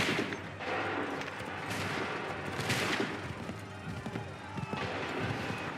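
A musket volley in a Revolutionary War battle at Lexington and Concord in Assassin's Creed III, dense overlapping gunfire and battlefield commotion with shouting voices throughout.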